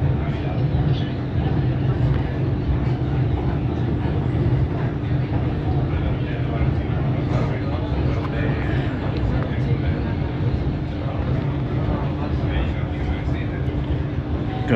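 Steady rumble of a train riding the C2 line near El Chorro, Spain, a continuous hum and rattle throughout with a faint tonal drone.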